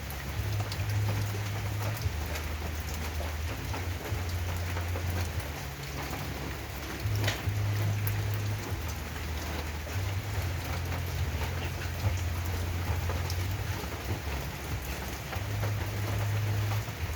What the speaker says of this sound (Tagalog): pumapatak ang ulan